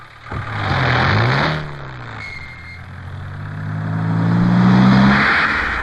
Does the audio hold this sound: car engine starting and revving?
yes